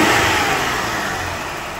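A 1996 Buick Century 3.1L V6 with ignition and injector faults is given a quick throttle snap, its engine roar rising sharply and then easing steadily back toward idle, close and loud with no talking.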